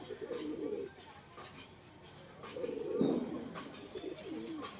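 Pigeons coo softly in a few short throaty bursts, fairly faint and close, with light background noise between calls.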